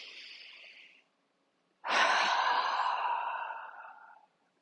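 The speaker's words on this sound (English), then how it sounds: "So again, that nice strong breath." A strong deep breath during a shoulder-stretching breathing exercise: a short inhale, a pause, then a long, loud, close exhale that fades slowly.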